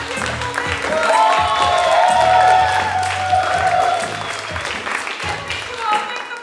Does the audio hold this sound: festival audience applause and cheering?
yes